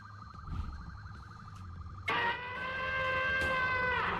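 A loud electronic alarm set off by livestream followers to wake a streamer, a rapidly warbling tone that jumps to a harsher, louder sustained wail partway through, with no talking.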